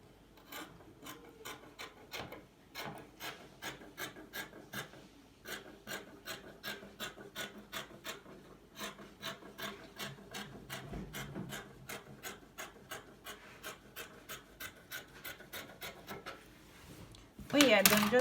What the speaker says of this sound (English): And then cut with your scissors.